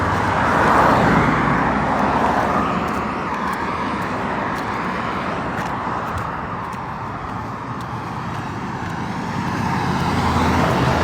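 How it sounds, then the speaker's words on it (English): Road traffic runs through a small Southern town square, heard from the sidewalk as a continuous broad roar of passing cars and trucks that swells and fades, with no talk over it. "This is just like the road that like runs down through the town square."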